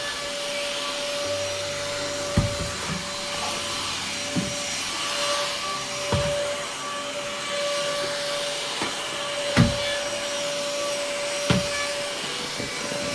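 A UNIQ Free A7 handheld vacuum cleaner runs with a continuous steady whine and hiss, broken by several sharp knocks and bumps as it moves around a room, with no talk.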